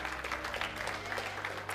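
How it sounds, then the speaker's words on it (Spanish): A church congregation gives a brief burst of applause. The pulsing claps are fairly faint over a low, steady hum. "Dê un fuerte aplauso de libertad."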